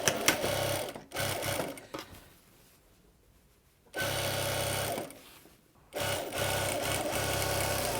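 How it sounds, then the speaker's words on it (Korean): A sewing machine stitches linen fabric in bursts: a loud mechanical whirring run, a pause with faint handling, then two more close whirring runs, with no talk. "먼저 이 구멍 기준에서 먼저 박고, 그다음에 좀 잘라내고 한 번 더 접어서 박을 거예요."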